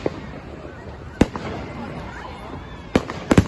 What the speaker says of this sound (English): How big was that firework?